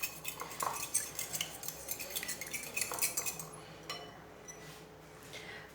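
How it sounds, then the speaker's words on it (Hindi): Three eggs are beaten briskly with a utensil, making rapid, rhythmic metallic clinks against the bowl up close for about four seconds before tapering off, with no voices. "ये देखिए मैंने 3 अंडे लिए हैं, अंडों को अच्छे तरीके से फेंट लेंगे।"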